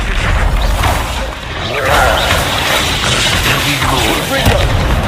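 Confringo blasting spell explosion in the Hogwarts Legacy video game: a loud booming burst amid a dense, sustained crackle of combat effects, with continuous low rumble throughout.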